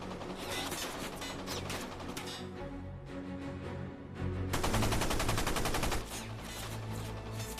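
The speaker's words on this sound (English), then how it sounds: "Lemp rushes onto the bridge and emerges to a hail of enemy gunfire" Rapid bursts of automatic gunfire crackle amid a dense, clattering battle din as a surfaced German U-boat is fired upon in World War II, with one especially loud, fast volley near the middle.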